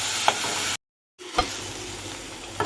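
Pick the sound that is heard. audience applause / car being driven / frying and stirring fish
frying and stirring fish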